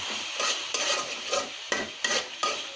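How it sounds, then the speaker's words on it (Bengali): Quail meat cooked with ginger and cumin paste is stirred in a pan, a spoon scraping in a steady rhythm of about six strokes over a soft sizzle, close up with no talking. "আদা বাটা, একটু জিরা বাটা, সবগুলো উপকরণ ভালো করে নেড়ে চেড়ে"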